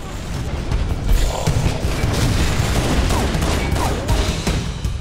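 Sentry guns in the PC game Halo: Combat Evolved fire a dense, unbroken volley of gunfire with booming impacts. The barrage stays loud and steady throughout.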